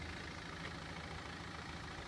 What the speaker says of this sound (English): That is the XC60 D4 engine.